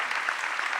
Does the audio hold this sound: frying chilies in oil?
no